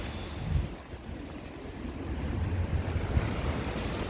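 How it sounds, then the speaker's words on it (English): Strong wind gusts outdoors during a road trip through Texas and New Mexico, a dense, steady rushing roar with low buffeting rumble against the microphone. "We're trying theories on how to keep the wind from blowing it down."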